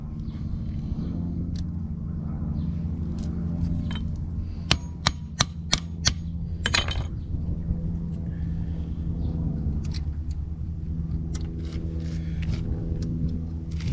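A hammer strikes a rear window slider part on a Mercedes W126 560SEL, a quick burst of about five sharp metallic whacks in a row, clear over a low rumbling background.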